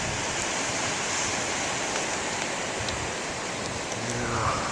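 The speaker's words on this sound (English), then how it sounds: "now that's some more big waves" Big ocean waves breaking on a beach, heard as a continuous, fairly soft roar of surf with a steady wash and no voices.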